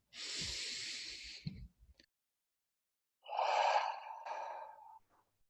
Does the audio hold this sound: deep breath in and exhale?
yes